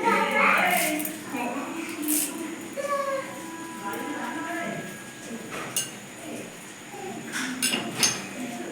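A knife chops small leaves on a cutting board for aloo kulcha, giving scattered sharp taps with pauses between them while someone talks throughout.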